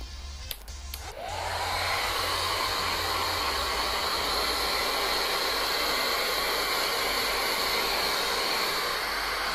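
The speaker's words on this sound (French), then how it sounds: "on va sécher le rat au sèche-cheveux" A hair dryer switches on to dry a feeder rat, blowing steadily at full power, a loud, even whooshing roar that continues without pause.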